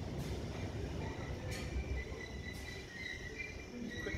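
British Rail Class 455 electric train to Waterloo pulling into a station platform, a steady rumbling, rattling roll with faint squeals of wheels on track, continuous and moderately loud throughout with no talking.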